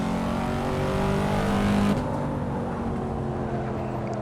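Corvette C4 ZR1 in the Assetto Corsa racing game holding high speed in fourth gear, a steady loud engine drone with a slight pitch shift partway through, no talking.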